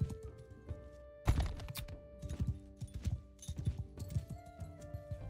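Horse hooves clip-clopping in Mount & Blade 2: Bannerlord, a quick uneven series of sharp knocking steps, fairly close and moderately loud, with no talk over them.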